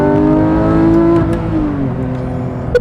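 A Porsche GT3's exhaust roars loudly as it accelerates, the engine note rising steadily and close up, then easing back with a brief sharp crackle at the end.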